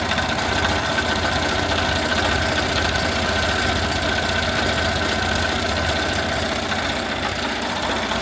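A computerized embroidery machine runs continuously as it stitches out a design, giving a steady mechanical hum and rapid rhythmic needle clatter with no talking.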